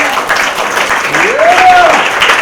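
An audience applauds at a religious talk by a shaykh, a steady broad wash of clapping with a voice calling out over it.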